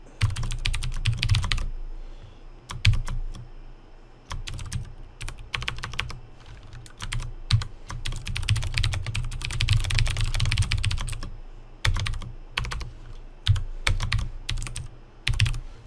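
Computer keyboard typed on steadily while entering program code, a close, continuous clatter of keystrokes in uneven bursts with brief pauses, and no talking.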